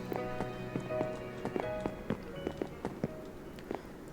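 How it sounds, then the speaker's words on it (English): Horse hooves clip-clop in the video game Minecraft as a steady series of light hollow taps under a soft background of music tones. "That horse was way down here"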